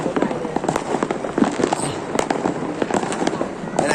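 Lunar New Year fireworks go off in a dense run of crackling bangs and pops, loud and close throughout, with people talking over them.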